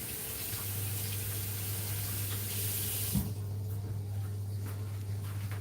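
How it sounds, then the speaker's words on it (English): Tap water runs steadily and close by as a handful of fresh thyme is rinsed under it, and the flow cuts off or changes sharply about halfway through. "let's grab a handful of thyme and I'm gonna rinse them off"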